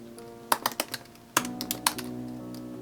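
Keys on a computer keyboard tapped out in quick uneven bursts while entering a Google search, several crisp close clicks with a short pause midway.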